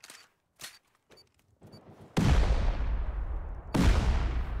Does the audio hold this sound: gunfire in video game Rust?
yes